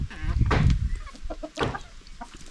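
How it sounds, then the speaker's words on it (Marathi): Village chickens in Konkan cluck near the microphone while eating cooked sweet potatoes, short bursts repeating over a breezy background. "यांना काय कोंबडी पण आली राहते की रताळी खायला"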